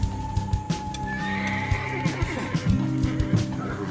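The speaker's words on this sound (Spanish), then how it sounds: "Pero miren cómo tiembla el caballo." A bay horse being readied for saddling snorts and neighs over steady clip-clopping hooves, with sharp hoof strikes and a rising whinny against a busy outdoor ranch background.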